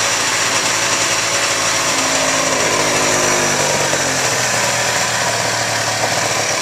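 A 1985 Honda Aero 50 scooter engine runs loud and close with a rough, sputtering idle, its pitch sagging and wavering as it chokes and struggles to keep running.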